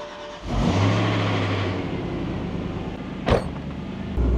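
A BMW E92 M3 engine cranks and fires on its first start, catching into a loud close idle that settles to a steady rumble, with a sharp click or clunk near the end.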